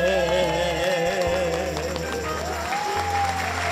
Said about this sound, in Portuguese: Aproveitar esses aplausos